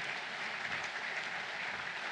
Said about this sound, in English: So let's give him a round of applause as we bring him on stage.